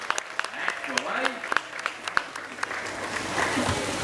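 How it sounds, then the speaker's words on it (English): An audience claps at a tiger show at Dreamworld in Australia, a scattered round of applause with sharp individual claps over crowd murmur, while a presenter's voice carries on through it. "what about a round of applause?"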